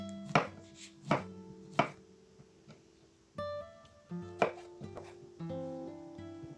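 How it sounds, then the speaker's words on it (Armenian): A knife chops a small squash on a board with sharp, distinct thunks in an uneven rhythm and short pauses between cuts. The chopping is close and clear. "փոքրոտ դդմիկ ունեմ։ Կտրատում եմ"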